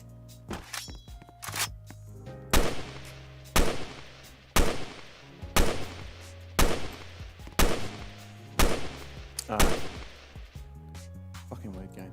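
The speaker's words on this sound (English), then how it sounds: "Gunfire." Gunfire in a Roblox video game: about ten sharp, loud shots in an uneven rhythm, roughly one per second, over a faint tonal game soundtrack.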